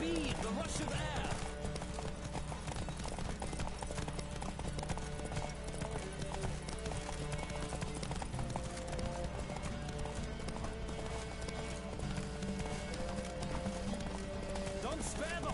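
A galloping horse in The Witcher 3 pounds out rapid, steady hoofbeats under game music, with a brief whinny early on and speech mixed in.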